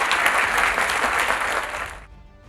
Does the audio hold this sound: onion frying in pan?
no